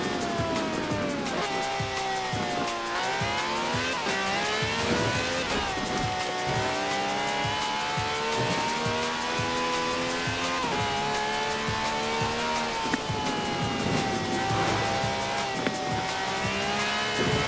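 A V12 car engine of over 750 horsepower, driven as a taxi in the video game Forza Horizon, revs hard through repeated rising gear pulls with shifts and some tire squeal, loud and continuous with no talk.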